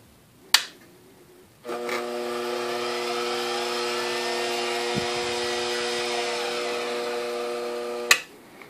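A shop-built Z-axis motor on a Grizzly G0761 milling machine whines steadily as it raises the head, starting after a click and stopping with another sharp click.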